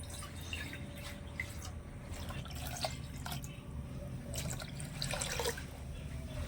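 Water measured out by the bowlful and poured into ground rice batter in a mixing bowl for neer dosa, giving a quiet, steady trickle with small drips and splashes throughout.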